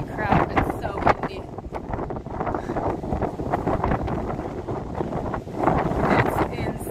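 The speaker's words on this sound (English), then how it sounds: "Holy crap, it's so windy." Strong wind buffeting the microphone in loud, continuous roaring gusts, with a voice speaking through it.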